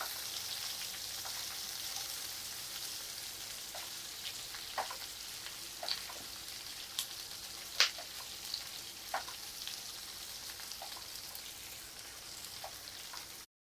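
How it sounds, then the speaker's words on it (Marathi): Roughly chopped, lengthwise-sliced onions sautéing in a pan for a creamy onion sabji, a soft steady sizzle with scattered faint pops and crackles, close and quiet, with no talk. "हे छान आपण परतून घेऊया."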